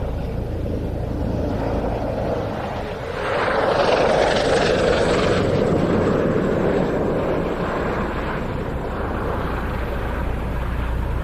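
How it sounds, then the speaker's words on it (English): An Airbus H145 helicopter departs at an air show, a broad rushing rotor roar that swells after a few seconds and holds strong and fairly near, with wind buffeting the microphone. "H145 is commencing its departure."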